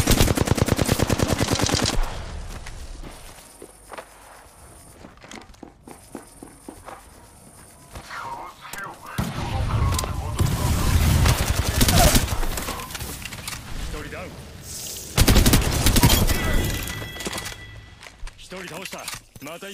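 Gunfire from the video game Apex Legends rattles in rapid bursts, loud at the start and returning in later volleys, with quieter stretches of footsteps and movement between them.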